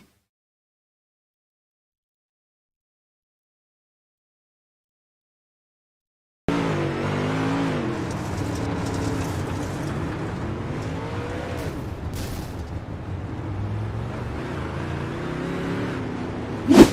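UMP modified race cars circle Lanier National Speedway after near silence, a continuous engine drone with shifting pitch as cars rev and pass, loud and steady to the end.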